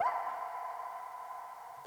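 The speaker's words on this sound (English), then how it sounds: "It's just a woo that I found on Splice." Sampled vocal "woo" hit for a pop production: a single sustained sung tone, held steady and fairly faint, with no other sounds around it.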